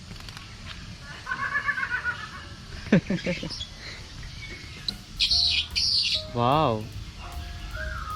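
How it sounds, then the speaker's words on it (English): A Senegal parrot at a bird park gives a run of short chirps, whistles and squawks, some sharp and warbling. A person briefly exclaims amid the calls. "So here we have the Senegal parrot."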